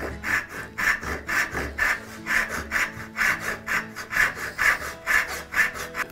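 A hand saw cuts steadily through wood for a lamp build, rasping strokes repeating in an even back-and-forth rhythm, close and clear with no voices.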